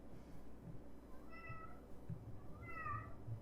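A cat gives two faint, drawn-out meows about a second apart over a quiet indoor background, with no talk.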